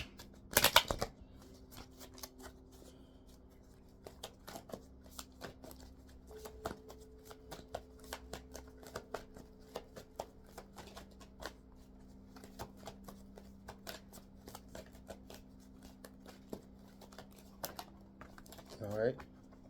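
Affirmation cards are shuffled and one is drawn, a sharp riffle at the start followed by light, sparse card clicks and handling sounds, with a low steady background hum throughout.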